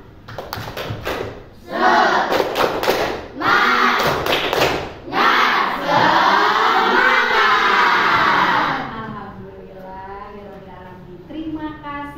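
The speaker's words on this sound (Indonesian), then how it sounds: "Tepuk semangat." A group performs the rhythmic clapping chant tepuk semangat in a classroom session, sharp thudding claps in quick patterned bursts mixed with shouted voices, loud and close, then fading into a single voice speaking.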